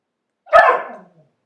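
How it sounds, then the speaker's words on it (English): A single sharp dog bark rings out close and loud, then fades quickly into quiet indoors. "that was my dog barking"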